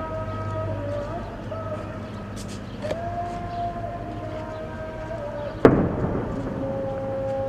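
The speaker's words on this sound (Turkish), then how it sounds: "Resulayn merkezindense zaman zaman patlama sesleri duyuluyor." Explosion in the town of Ras al-Ayn: one sharp, fairly loud blast about two-thirds of the way through, its rumble trailing off over a steady background of sustained tones and low hum.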